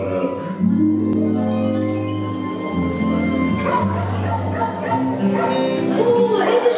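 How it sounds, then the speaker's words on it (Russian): A dog barks and yips in quick bursts during a festive New Year stage show for children, heard over continuous background music with a voice nearby. "О, это же собака!"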